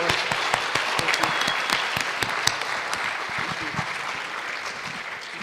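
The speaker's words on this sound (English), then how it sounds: "Please a round of applause to say thank you to our speaker" Applause from a conference audience thanking a speaker after an academic talk on digital materiality in computer-mediated art, a dense, steady wash of many hands clapping that holds at an even level throughout.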